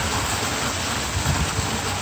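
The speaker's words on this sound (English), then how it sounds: "So this is the water off of all these buildings." Rainwater running off the buildings pours into a raised alley, a steady, dense wash of splashing and trickling water close by, continuous and fairly loud with no letup.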